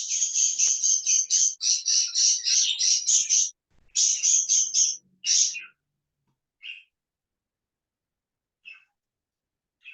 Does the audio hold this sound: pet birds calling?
yes